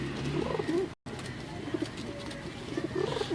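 Several pigeons coo in low, rolling bursts, near and steady through the stretch, with a brief drop-out partway through and a faint hum of other bird calls behind.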